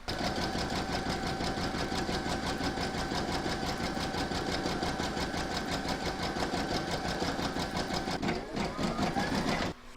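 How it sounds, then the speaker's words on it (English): An embroidery machine stitching a placement outline on a hooped in-the-hoop evening bag project, a fast steady mechanical chatter of needle strokes running continuously and close, briefly dipping near the end. "you're going to pop your hoop into your machine and you're going to stitch round number 1"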